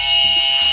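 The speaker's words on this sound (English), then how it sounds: "I just wanted to make sure my buzzer worked." A game show buzzer is pressed as a test during a drawing guessing challenge, giving one loud, steady electronic tone that fills the short moment with no voices over it.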